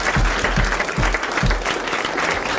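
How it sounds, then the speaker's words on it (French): An audience breaks into loud applause for Madame Lebert, with sharp thumping low hits at irregular intervals cutting through the dense, continuous clapping. "vous applaudissez Madame Lebert"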